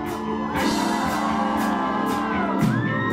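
A concert crowd at a pop singer's show cheers and shouts together, sustained loud whoops and yells in a hall over continuous noise.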